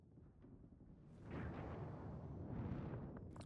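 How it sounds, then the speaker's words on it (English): Fireworks bursting in space in the video game Star Citizen: a steady low rumble swells into a broad, roaring whoosh of blasts that holds for a couple of seconds, fairly faint and with no talk. "How do these fireworks work in space?"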